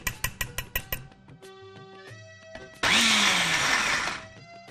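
A kitchen mixer grinder crushes dal, starting after a few music-like pulses and short tones with a loud, steady whirring roar for about two seconds that then winds down.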